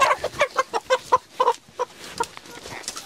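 Hen clucking in a series of short, rhythmic calls, close and fairly clear, the clucks slowing and fading slightly toward the end with no talk over them.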